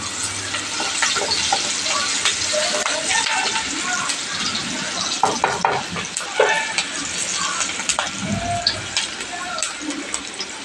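Onions sautéing in a pan for a country chicken fry, a steady broadband sizzle with scraping stir strokes and occasional clatter running throughout at close range, with no speech over it.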